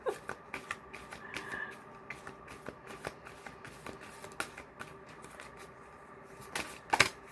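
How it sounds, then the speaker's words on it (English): Oracle and tarot cards being shuffled by hand, a close series of quiet riffling flutters and light taps in irregular bursts, ending in a louder flurry, with no talking. "Sometimes I just like shuffling them."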